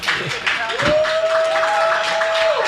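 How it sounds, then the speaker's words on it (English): Audience clapping and cheering at a live music-series interview, loud and close, with a voice talking over it and a sustained tone running through the middle. "Round of applause, incredible."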